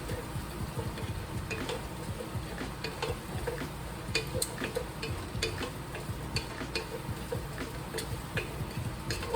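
A spoon stirs split pea soup with parsnip in a pot, giving a steady low bubbling sizzle with scattered light ticks and scrapes against the pot, moderately quiet and continuous, with no talking.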